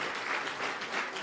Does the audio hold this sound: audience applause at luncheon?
yes